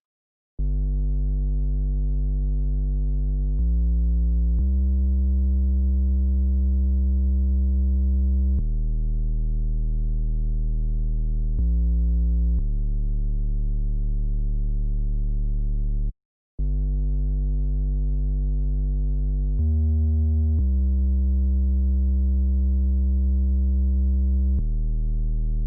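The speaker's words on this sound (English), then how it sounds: "So finally, let's get to the 808." A dry 808 bass with no effects, from a hip-hop beat, plays alone as long sustained low notes that shift pitch in a slow pattern, with one brief gap partway through.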